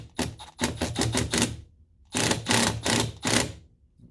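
Bolts being tightened with a ratchet while installing a cold air intake on a 2014 GMC Sierra, two bursts of rapid close clicking separated by a short pause.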